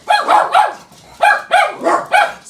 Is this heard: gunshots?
no